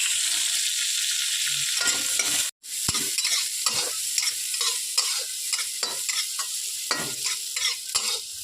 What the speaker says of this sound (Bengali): এবার আমি অল্প একটু ঘি দিয়ে কাজু কিশমিশটা একটু এর মধ্যে ভেজে নেব।